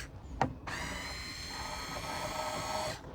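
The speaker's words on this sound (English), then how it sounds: "So to make it easy, I've got this electric screwdriver." Electric screwdriver fitted with a T25 bit backs out screws on a Ford Fiesta brake light, a click then a steady high motor whine running for about two and a half seconds before stopping.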